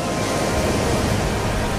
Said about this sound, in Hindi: समंदर का शोर